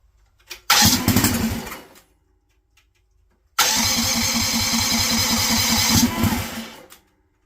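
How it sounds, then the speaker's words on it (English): Small Honda GX200 kart engine fitted with a 3-circuit carburetor, choked, firing up in two bursts: a short run that dies, then a longer steady buzzing idle before cutting out, loud and close. "We're going to give it some choke and see if it'll fire off."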